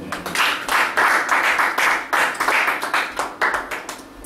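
A congregation claps in acclamation at a church service, a dense, steady wash of many hands with rhythmic surges, sustained and fairly loud throughout.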